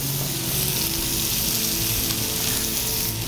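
Beef tenderloin sears in a hot pan with a loud, continuous, close-up sizzle and crackle throughout.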